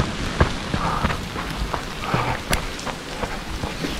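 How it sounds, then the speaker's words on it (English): A heavy Colorado rainstorm pours steadily as a dense, continuous hiss, with scattered sharp ticks and clicks that fit hailstones mixed into the downpour, fairly loud and unbroken, with no voices. "We're getting a nice downpour."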